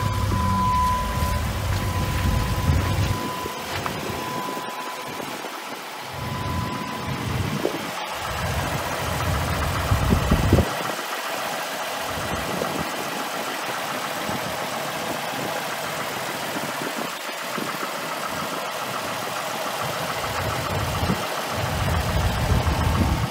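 Jeep engine idling steadily after starting, a low continuous mechanical drone that stays even and moderately loud, with faint hiss and scattered light ticks around it.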